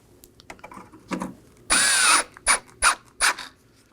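A power drill drives T15 Torx screws into the grille of a 2018-2024 Chevrolet Equinox: a longer whining run followed by three short bursts, close up, with faint clicks and handling noises before.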